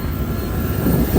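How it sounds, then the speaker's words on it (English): Private jet engine noise, a steady low broadband roar that swells slightly toward the end, heard close and continuous with no talking. "Private jet."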